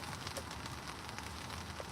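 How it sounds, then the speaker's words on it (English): Steady broadband patter of rain falling outdoors on a cooking walk, even and continuous with no voices. "Rain, rain, rain"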